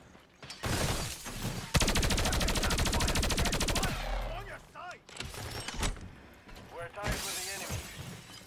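Rapid gunfire from a shooter video game, a dense sustained burst of shots followed by scattered clattering and shorter bursts, with a voice talking over parts of it.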